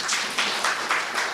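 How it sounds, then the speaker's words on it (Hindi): Audience applause at a spiritual talk, a few bursts of clapping rising and falling in quick waves, moderately loud and steady with no voices over it. "ताली तो बजाइए"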